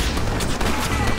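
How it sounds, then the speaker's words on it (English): Gunshots in the Western video game Red Dead Redemption, a dense, continuous crackle of fire running throughout at steady loudness, with a chaotic wagon shootout suggested by the busy layering. "I guess I'll shoot this guy"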